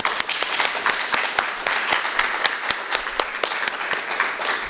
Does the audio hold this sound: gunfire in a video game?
no